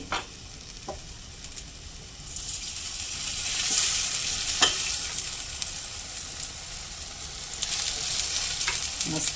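Rava uttapam frying in oil on a covered pan, giving a steady soft sizzle that swells and fades, with occasional light taps from the pan.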